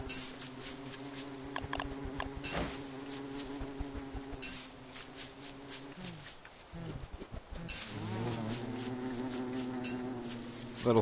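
A bee buzzing in the video game Don't Starve, a steady harmonic drone that persists across the scene, dipping briefly midway before resuming, with light soft game sounds underneath.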